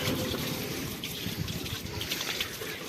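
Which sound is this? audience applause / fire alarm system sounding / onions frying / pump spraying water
pump spraying water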